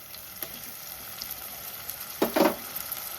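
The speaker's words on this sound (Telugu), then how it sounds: "అల్లం వెల్లుల్లి పేస్ట్ కూడా పచ్చి వాసన పోయేదాకా వేయించుకోవాలి" Ginger garlic paste frying in a pan, with a low steady sizzle and a short burst of louder crackling as it is stirred.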